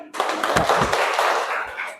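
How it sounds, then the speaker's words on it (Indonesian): Brief clapping from students in a classroom for a classmate during a lesson on waves, a short burst of overlapping claps close by that fades within two seconds. "Kita kasih tepuk tangan buat Farid."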